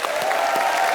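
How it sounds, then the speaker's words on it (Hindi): A short burst of dense studio audience applause on The Kapil Sharma Show, steady and loud throughout, many hands clapping at once. "जोरदार तालियां"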